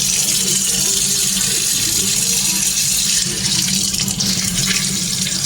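Water gushes steadily and loudly from a leaking flexible kitchen faucet into a sink, a continuous hissing splash that holds level throughout with no pauses.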